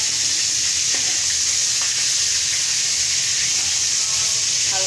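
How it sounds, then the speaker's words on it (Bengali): Fish coated with turmeric and chili fries in hot oil, giving a steady, dense sizzle close up that runs without a break, with a few faint stirring clicks. "মাছটাকে হলুদ মরিচ দিয়ে একটু ভেজে নিলাম"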